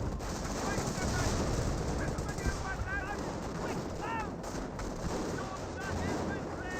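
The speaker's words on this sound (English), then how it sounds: "We do have the flak Irving firing away." A flak gun keeps firing in the WWII strategy game Company of Heroes 1. Rapid bursts of gunfire rattle amid distant battle noise, heard over a steady din of combat, with a voice talking over it.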